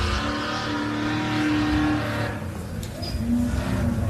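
A 4x4 race car runs on the Loveday 400 track at Loveday 4x4 Adventure Park, its engine droning steadily and loud, then easing off and picking up again.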